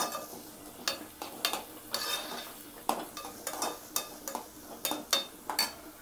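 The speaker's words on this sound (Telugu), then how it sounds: "ఈ ఉల్లిపాయ ముక్కలు వేసిన తర్వాత 1 నిమిషం ఇలా వేయించుకొని ఈ పచ్చి వాసన పోయేదాకా వేయించుకుంటే సరిపోతుంది." Chopped onion pieces frying in a pan for an Andhra-style egg curry, faint sizzling beneath a series of sharp scrapes and clinks as a spoon stirs the pieces around the pan, with no talk.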